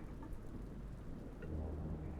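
Steady rain falls through a dark night on a road outside a parked car, with a low rumble of thunder rolling in toward the end. No one speaks.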